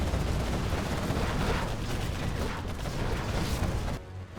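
Particle cannon fire in a Command & Conquer-style strategy game match, a dense, continuous roaring blast with crackling energy, loud and sustained, dropping away abruptly near the end.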